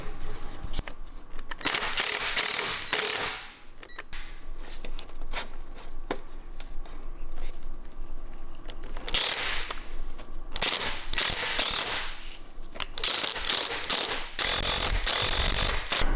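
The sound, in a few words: tightening car exhaust clamps with tools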